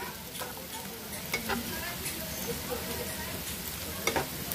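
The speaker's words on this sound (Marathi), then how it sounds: "थोडं हिंग घालूयात आणि आता आपण कांदा चांगला परतून घेऊयात।" Onion sautés in a pan with asafoetida for a wild amaranth leaf bhaji, a soft continuous sizzle and crackle up close with scraping stirs and a few sharp taps of the spoon.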